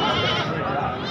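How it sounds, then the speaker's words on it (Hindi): Goats bleat among young kids at a crowded Khairpur livestock market, a close wavering cry over busy background noise and chatter. "ये देखो छोटे बच्चे बकरे"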